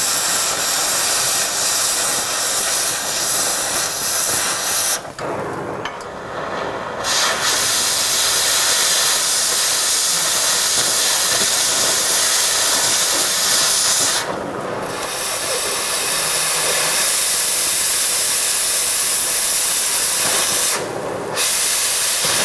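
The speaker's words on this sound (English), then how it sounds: "or a torch, which is what I'm going to use" A cutting torch slicing apart exhaust pipe bolts on a Honda Fit catalytic converter pipe, a loud, steady roaring hiss that runs almost without a break, cut off by a few short pauses.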